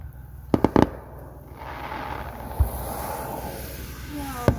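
Outdoor 4th of July fireworks bursting in the rain, with several sharp booms near the start, one mid-clip and another at the end, plus crackling and a faint rising whistle between them.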